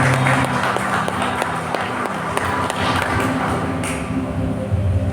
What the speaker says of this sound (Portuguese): Vamos dar uma salva de palmas, nosso Deus,